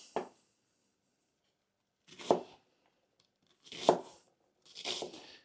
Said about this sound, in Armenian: Եվ կտրատում ենք։